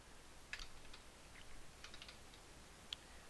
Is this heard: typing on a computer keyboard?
yes